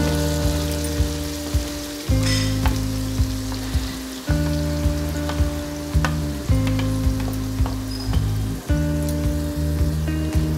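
Tomato paste for an instant tomato pickle fries in garlic-infused oil, a steady sizzle with repeated stirring strokes over a sustained tonal background.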